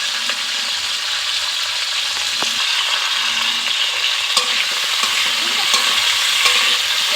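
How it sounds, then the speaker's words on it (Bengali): Cauliflower and potato pieces fry in oil seasoned with five-spice for a vegetarian dish, a constant close sizzle punctuated by scraping and knocking as a spatula stirs them. "ফুলকপি ও আলুটাকে একটু ভালো করে ভাজতে হবে।"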